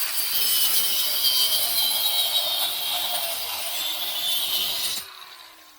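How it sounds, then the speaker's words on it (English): A power grinder cuts steadily through part of a broken chair for about five seconds, a loud continuous abrasive whine that then cuts off and spins down. "I've got to grind almost all the way through."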